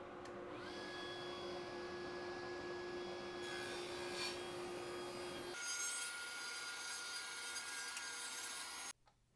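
Power saw ripping through a very hard, long-dried hardwood blank for a hammer handle, a steady loud whine and rasp that drops in pitch partway through as the cut continues, then stops abruptly near the end.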